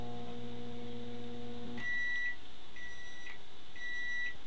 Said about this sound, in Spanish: Solamente le vamos a dar clic al microondas y miren eso.